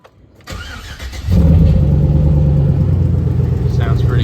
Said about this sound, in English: For exhaust, it's just a true dual catback straight.